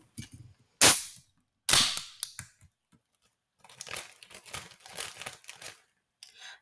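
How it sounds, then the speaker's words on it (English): Carbonated Pepsi fizzing and crackling as it is poured into a plastic zip-top bag of crackers, with sharp crinkling bursts from the bag followed by a stretch of irregular popping and rustling. "pour 100 milliliters of a carbonated beverage"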